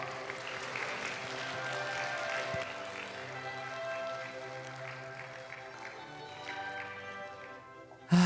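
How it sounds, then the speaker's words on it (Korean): Warm applause from an audience at a graduation ceremony, steady moderate clapping heard from a distance in a hall, fading slightly before a sharp close sound at the very end. "총장님을 따뜻한 박수로 모시겠습니다."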